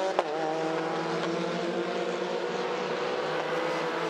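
Formula 4 race cars scream past in a 2017 Southeast Asian series race, a loud, sustained high-revving engine drone with shifting pitch, heard without talk.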